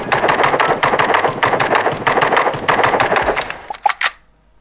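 Rapid, loud bursts of automatic gunfire in the video game Hide Online rattle almost continuously, then break into a few separate sharp shots before falling silent.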